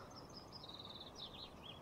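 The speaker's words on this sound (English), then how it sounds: "Birds with only a couple frames of animation" Birds chirping in the woods of the video game Eidolon: faint, thin, repeated tweets and short trills float over a low, steady ambient hum.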